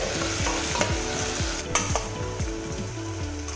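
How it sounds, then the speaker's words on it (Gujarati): Onion and potato masala rice gets stirred in a pressure cooker over steady sizzling frying, with a spoon scraping the metal pot in a regular rhythm about every third of a second, close and continuous. "હવે તેને સારી રીતના હલાવી લઈશું"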